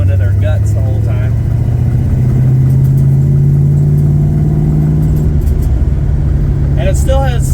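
A Plymouth Barracuda with a 383 big block engine swapped in pulls hard, its deep engine note climbing steadily as it accelerates, loud and close, with brief talk at the start and end.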